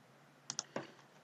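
Soft mouse clicks approving a deployment release in Azure DevOps, a quick double click then a single click, faint and close in a quiet room.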